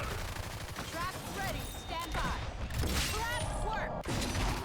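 Gunfire in the video game Evolve sounds as rapid bursts of shots layered with mechanical game effects, fairly loud and dense, while a voice talks over the action.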